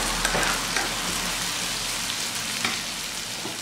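Onions frying in a pan, browning for a roast beef sandwich, give a steady close sizzle with a faint crackle throughout and no voices.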